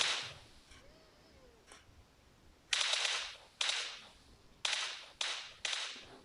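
Five sharp, loud video game gunshot cracks in PUBG Mobile on the Karakin map, the first three fired in quick succession and then two more close together, each followed by a brief decay.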